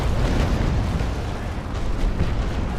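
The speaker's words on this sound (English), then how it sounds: "I'll definitely give you a 25 guns salute broadside." A cannon broadside fired from a 25-gun sailing ship in the naval battle game Naval Action, heard as a dense, continuous roar of overlapping booms that stays loud for the whole stretch.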